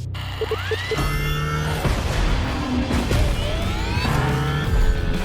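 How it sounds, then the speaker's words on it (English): Audi S1 E2 Quattro in The Crew Motorfest, driven by two Formula E electric motors, whines loudly as its tires squeal and skid repeatedly through hard slides, close and continuous. "2 Formula E engines allow this thing to absolutely incinerate tires."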